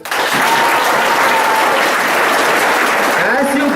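An audience bursts into loud, dense applause at a school farewell gathering, sustained clapping from a large crowd close by that holds steady for several seconds before thinning toward the end.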